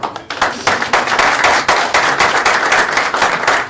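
A room full of people at a developer conference talk claps steadily, brisk and continuous applause with sharp individual hand slaps, close and loud.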